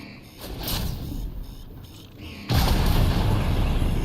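Gunfire during a fight in the space game Starfield, a dense rumbling barrage of shots and booms that swells suddenly louder halfway through.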